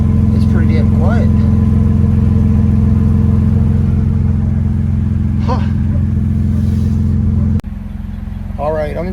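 A 2024 Ford Ranger fitted with a Flowmaster 40 Series muffler idles with a loud, steady, deep exhaust drone close by, while people talk briefly over it.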